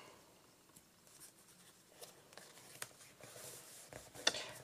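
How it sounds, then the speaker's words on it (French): Pen scratching across the page of a bullet journal in short, soft strokes, fairly quiet and close, with a few small taps and rustles and no talking. "Il faut juste que je vienne écrire les jours."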